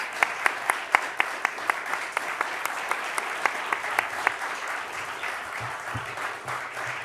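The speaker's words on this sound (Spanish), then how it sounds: "les pido un aplauso para Roberto y Manuel" An audience applauds steadily at a talk on trusting oneself, intuition and publishing, with a few sharp individual claps standing out early before the sound settles into an even patter. Near the end, faint voices murmur underneath.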